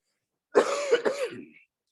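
A single brief fit of coughing and throat clearing from a man during a public works contracting law presentation, close and fairly quiet, two or three rough bursts in about a second with silence around them.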